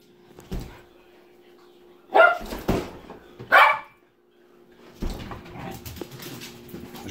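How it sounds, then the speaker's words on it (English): A household dog in a kitchen gives a few sharp, loud barks spaced a second or so apart, with soft whimpering and yips between them and faint background noise. "this is one of our dogs."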